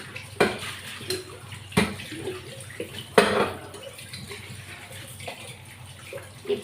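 Water splashes over metal vessels in a small zinc sink, with a few sharp clanks of pots and dishes knocking together against a quiet trickling background.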